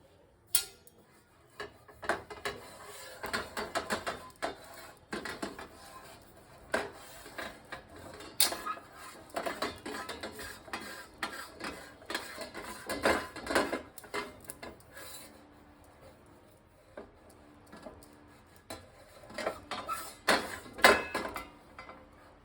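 Steel plate being greased with ghee while preparing sesame-jaggery til gul vadi, with light scraping, rubbing and occasional clinks of dishes and utensils coming in scattered bursts, fairly quiet throughout.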